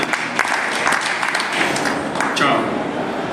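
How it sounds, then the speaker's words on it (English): An audience claps for a short stretch at a stage event, the dense applause filling the room steadily with a few sharper claps on top and a voice speaking briefly underneath. "Make a small applause, please."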